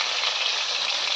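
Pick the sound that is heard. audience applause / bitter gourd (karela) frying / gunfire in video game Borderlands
bitter gourd (karela) frying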